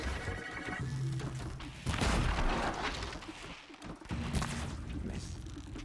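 Gunfire in a video game fight against a robot dinosaur, with bursts of shots, crashing impacts and booms in a loud, chaotic mix while a person talks over the action.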